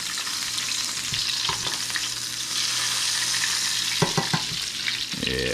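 Salmon sears in a hot pan with a steady, dense sizzle while it is basted, with a few scraping spoon knocks and clinks near the end.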